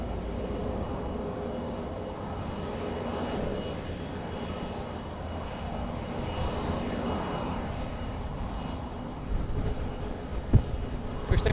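A Global business jet's engines roar steadily at Madeira Island Airport on a windy day, a constant broad rumble that swells slightly toward the end.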